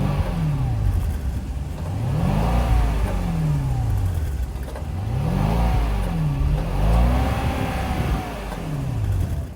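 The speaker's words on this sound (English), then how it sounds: "that was the sound of the 4-liter twin-turbo V8 sold by Mercedes-Benz for the 2024 S580" A 2024 Mercedes-Benz S580's 4-liter twin-turbo V8 runs close by, rumbling steadily and rising and falling through several revs.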